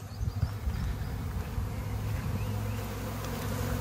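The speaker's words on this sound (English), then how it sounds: "Yeah, this hive was jamming with bees." A dense honeybee swarm buzzes loudly and continuously outside a busy hive, a thick, droning hum that stays steady with no voices.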